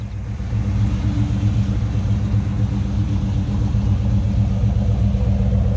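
The engine of a 1971 Chevy 4x4 truck runs at a steady idle, producing a deep, continuous rumble that is loud and close throughout, with no talking.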